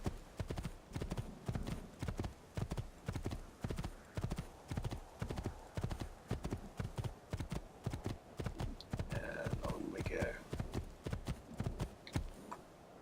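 Horse hooves clip-clop steadily on a hard surface in Assassin's Creed II, set in Renaissance Italy, a continuous even rhythm of close, moderately loud hoofbeats with a brief whinny-like sound near the end.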